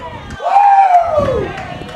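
The Girard home crowd cheers at a high school baseball game between the Girard Trojans and Frontenac Raiders. One loud, rising-then-falling shout rises above the general crowd noise for about a second.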